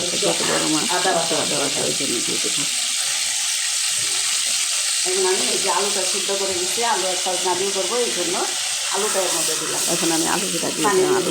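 Onion and garlic paste frying in hot oil gives a continuous close sizzle and hiss, with someone talking over much of it.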